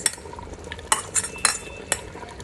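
Mutton nihari with fried onions and chili powder cooks in a pot while being stirred. A low sizzle runs underneath several sharp metallic clinks of a utensil striking the pot, irregularly spaced and close, with no talking.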